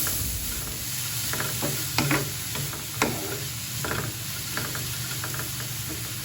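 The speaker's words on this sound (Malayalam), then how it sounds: "ഈ ബീട്രൂട്ടൊക്കെ നന്നായി മിക്സാക്കി എടുക്കാം" Beetroot, onion and grated coconut thoran is stirred in a pan on a Kerala stovetop. A spoon scrapes and taps irregularly against the pan over a low, steady sizzle.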